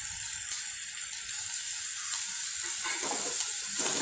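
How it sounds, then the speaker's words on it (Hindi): Spice paste frying in a pan for a dry chickpea snack gives a steady, close sizzle with faint stirring scrapes, rising slightly toward the end. "और अच्छी तरह से भून लीजिए।"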